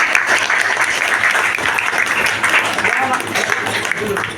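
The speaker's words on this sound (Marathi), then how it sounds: "टाळ्या जोरात असू द्या." An audience at a senior citizens' felicitation ceremony breaks into loud, sustained applause, a dense wash of many hands clapping close by with voices faintly mixed in.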